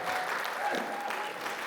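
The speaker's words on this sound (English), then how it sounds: "Give me a round of applause." Audience at a voice-actor panel at a Norman, Oklahoma convention breaks into steady, even applause, dense clapping holding at a constant level for the whole stretch.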